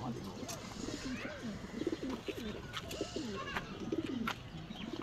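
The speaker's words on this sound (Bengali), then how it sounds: "এটা মাদি কবুতর।" A female pigeon coos in a soft, repeated rhythm, with several throaty calls close by at low volume and voices faintly in the background.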